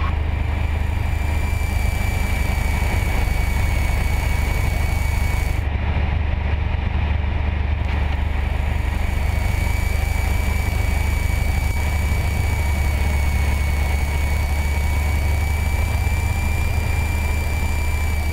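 A Piper Dakota single-engine propeller plane drones steadily on landing approach with the prop at highest RPM, a loud constant engine hum and whine heard from inside the cockpit with no talking.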